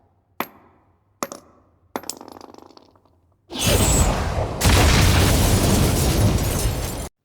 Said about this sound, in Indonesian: granat jatuh tepat di bawah kakinya, yang membuat ledakan yang begitu keras